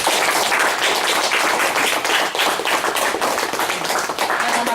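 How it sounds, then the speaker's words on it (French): Dense applause from a group of French high-school students cheering three candidates at a Goncourt des Lycéens gathering, steady and loud clapping sustained throughout. "J'applaudis les trois candidats quand même."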